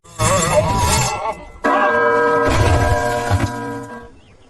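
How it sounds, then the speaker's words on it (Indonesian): A giant bell falls on someone: a loud crashing clang with ringing metallic overtones, then a second heavy impact that rings on and slowly fades away. "tetapi malah ketimpa lonceng raksasa dong"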